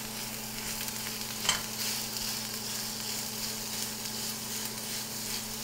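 Italian sausage sizzles with onions and garlic in a hot pan as a steady close hiss with one brief clink, over a constant low electrical hum, with no talk.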